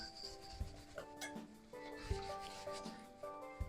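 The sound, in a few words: whisking batter by hand with a whisk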